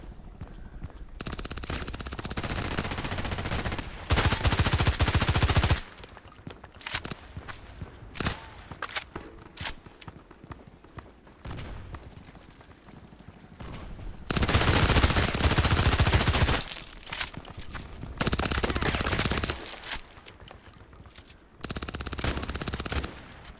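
Bursts of rapid automatic gunfire from a shooter video game come in several long volleys separated by quieter stretches of scattered shots and footsteps, loud and close.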